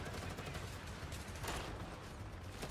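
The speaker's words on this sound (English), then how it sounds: "The sound of heavy gunfire comes over the transmission once again" Dense, continuous video-game gunfire heard over a radio transmission crackles without pause, a heavy barrage of rapid shots with a louder burst near the middle.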